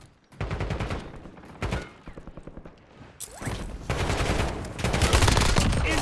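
Bursts of automatic gunfire crack and rattle in a military video game, sharp volleys starting and stopping, then growing into denser sustained shooting near the end.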